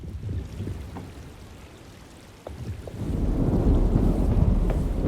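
Thunderstorm in the Alone in the Dark video game: rumbling thunder swells into a heavy, steady roar of rain and wind that builds louder in the second half, with no one speaking.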